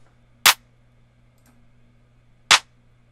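Two separate hits of a programmed 808 drum-machine clap for a trap beat, each a sharp, bright snap standing alone about two seconds apart over a faint low hum.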